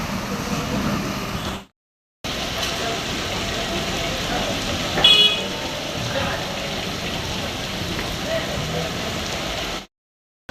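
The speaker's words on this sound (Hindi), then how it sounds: "खूब तेज की बारिश हो रही है फ्रेंड्स।" Heavy rain pours steadily as a dense, even hiss, broken by two brief silent gaps.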